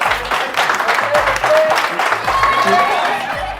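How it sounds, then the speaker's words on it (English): Applause from a corporate outbound training group, steady crowd clapping mixed with chatter and some cheering, with music and voices audible underneath. "Big round of applause for all of them"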